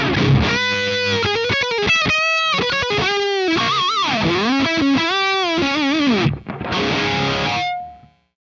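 Fluid, high-gain shredder guitar patch from an ADA MP1 preamp profiled on a Kemper amp: a fast run of sustained, distorted lead notes with bends and vibrato, played alone and loud before ringing out and fading.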